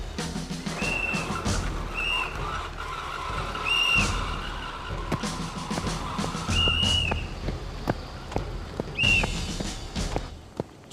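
A police whistle blown at a driver on a street, with several sharp, piercing blasts repeated across the scene over traffic and footsteps.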